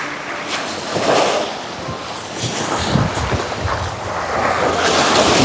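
Sea waves wash onto the shore at night, a continuous rushing surf that swells and recedes, heavy with wind buffeting the microphone.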